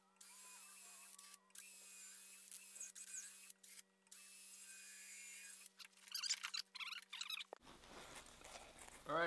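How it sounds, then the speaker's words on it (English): A drill with a 5/8 Forstner bit bores into wood for a hand-carved tobacco pipe, its whir faint and intermittent over a steady background hum, broken by short pauses and rougher bursts near the end. "Went down with a 5/8 Forstner, met the hole"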